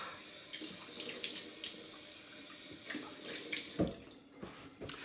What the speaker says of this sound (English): I'm going to get some cold water on my face.